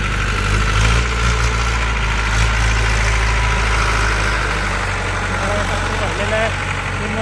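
A loud, low tractor engine rumbles steadily up close, then eases slightly as the tractor pulls away, with voices talking over it.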